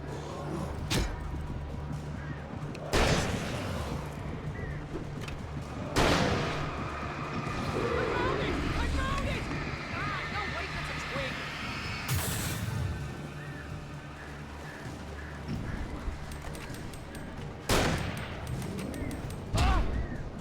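Gunfire in Alan Wake, several slow, spaced heavy shots booming out over a busy game soundscape, with a person's voice talking intermittently.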